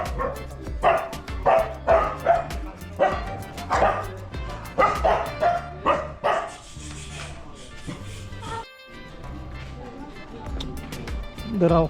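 Dogs bark at the Swayambhunath Monkey Temple in Kathmandu, a busy hilltop Buddhist stupa site: repeated close yips and bow-wows in bursts, with voices chattering in the background.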